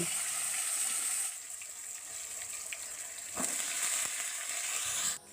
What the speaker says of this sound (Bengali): তারপরে এই তেলের মধ্যে দিয়ে দিচ্ছি কেটে রাখা পটল